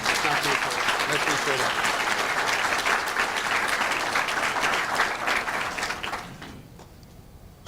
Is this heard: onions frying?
no